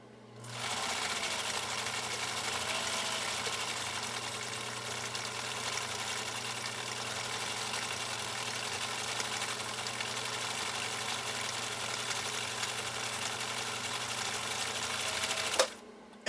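A restored Husqvarna Viking Type 2 sewing machine stitching continuously for about fifteen seconds, a steady mechanical whir with a low motor hum, ending with a brief clunk as it stops.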